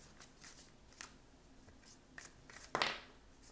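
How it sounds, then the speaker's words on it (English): An Angelarium tarot card deck is shuffled by hand, giving soft, faint riffling and sliding sounds in scattered short bursts, with a slightly louder flick near the end and no talking. "Okay, I'm going to go ahead and shuffle."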